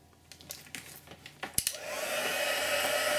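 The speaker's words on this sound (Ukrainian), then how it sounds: "Тепер знову ж таки підсушимо їх феном" Several short clicks and taps, then a hair dryer switches on and blows with a steady, rushing whir, drying stamped images made with Surfacez ink.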